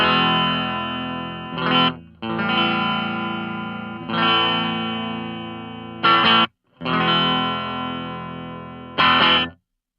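Jangly AC30-style electric guitar tone from a Hotone British Invasion Nano amp, played alone as sustained strummed chords in several phrases, each ending with a brief bright burst, with short gaps between them.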